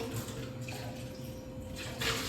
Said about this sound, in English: Just gonna give it a rinse because it should be clean.